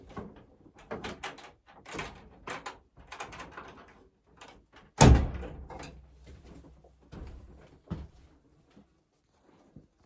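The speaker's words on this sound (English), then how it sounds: "But just in case, let's shut the door, you know." A door is pushed shut at a campsite with a single sharp thump midway, after a stretch of shuffling, rustling movement and light knocks, then quieter handling sounds.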